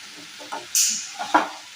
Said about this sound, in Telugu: ఇందులోనే ఒక నాలుగు పెద్ద టొమాటోలు వేసుకోవాలి